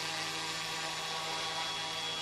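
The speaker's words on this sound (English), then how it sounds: "What a neat aircraft. I've been flying it to death" A small aircraft drones steadily and loudly overhead, a continuous dense engine and rotor-like roar with no change in level and no voices.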